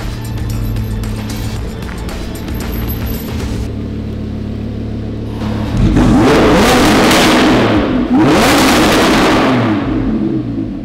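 A Lamborghini Huracan pulling into a shop, its engine idling low and then revving hard in two loud, rising bursts close by, with no talking.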